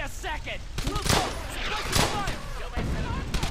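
Rapid gunfire rattles in the World War II shooter Brothers in Arms: Hell's Highway, dense overlapping bursts and distant booms with game voices and radio chatter mixed in.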